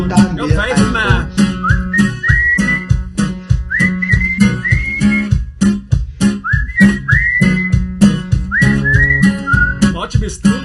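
Loud, close whistling of a bouncy melody with rising slides, carried over a steady rhythmic musical accompaniment throughout.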